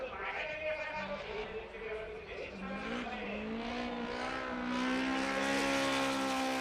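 A Toyota AE86 Hachiroku drift car at Fuji Speedway, engine droning and rising in pitch as it accelerates, heard under a race commentator's voice.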